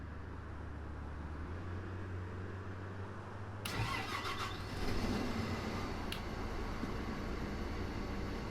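An IVECO bus engine starts up in the OMSI-2 simulator: a low idle-like hum gives way to the crank and catch of the diesel, which then settles into a louder steady rumble with a brief rev.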